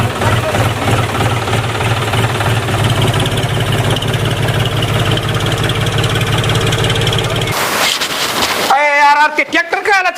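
A tractor engine idles close by, a loud, steady low chugging that runs unchanged for most of the stretch before giving way to a sharp burst and brief voices near the end.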